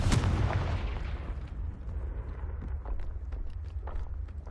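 The Confringo fire spell in Hogwarts Legacy goes off with a loud, sharp blast that decays into a rumbling tail, followed by faint footsteps and scattered small impacts.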